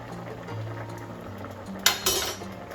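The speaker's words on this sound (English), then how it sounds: "this came to a boil, so I'm about to turn it down to medium low heat" A pot boiling on a home stove during meal prep, a steady low bubbling with a couple of brief, louder clinks of cookware partway through.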